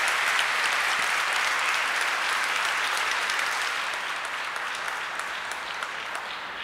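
Broad audience applause for two speakers closing a seminar session at a congress on the future and digital society, many hands clapping loudly and evenly before tapering off slightly toward the end.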